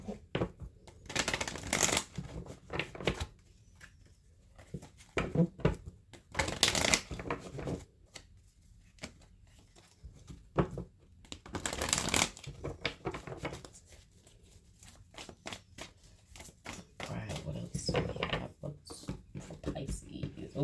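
Tarot cards being shuffled in repeated bursts of riffling and flicking, close and fairly loud, with quieter handling between bursts and no talk.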